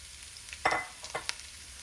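Ingredients dropped into hot oil in a pan for homemade tomato soup give a sudden close sizzle that fades, followed by a few short crackles and a stirring scrape, with no talking.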